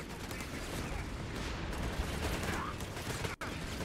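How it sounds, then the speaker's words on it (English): Rifle and hand grenade gunfire in the Company of Heroes 3 video game, a dense continuous crackle of shots and blasts filling the whole stretch at moderate loudness. "Hand grenades versus rifles over here."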